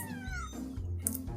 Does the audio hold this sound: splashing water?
no